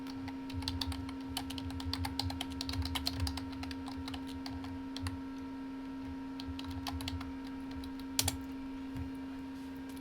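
Computer keyboard typing in quick irregular bursts of clicky keystrokes, close and fairly quiet over a steady electrical hum, with one sharper key strike near the end.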